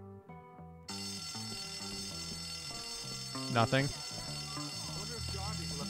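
School fire alarm pulled in the video game Bully, a loud steady ringing alarm tone running under game music and ambient noise, with a sharper burst midway.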